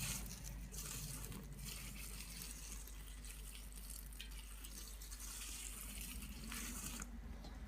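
Water running and splashing steadily onto worm bedding, a continuous broad hiss like a stream poured onto a damp surface, close and uninterrupted.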